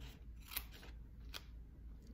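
Scissors snip through scrapbooking paper while a box is being made, two crisp, quiet cuts heard close up against a faint hum.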